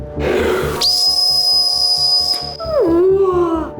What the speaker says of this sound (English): This is a whistle. Let's hear how it sounds.